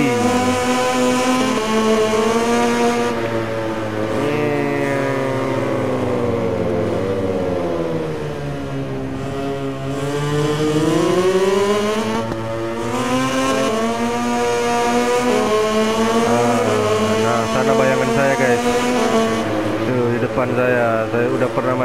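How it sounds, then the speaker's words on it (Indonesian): A KTM Tech 3 racing motorcycle in a video game howls steadily at high revs, pitch rising and falling through gear changes over a long run, with someone talking over it. "di sini kita menggunakan motor KTM guys, KTM Tech 3."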